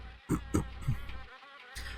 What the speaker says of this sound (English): From the sound of it, these cabinets are infested with wasps.